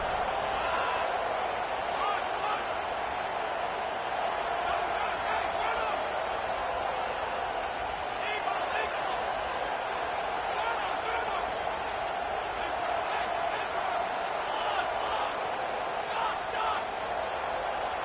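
A stadium crowd at a college football game against Clemson sends up a steady, far-off, sustained roar, with a voice speaking over it throughout.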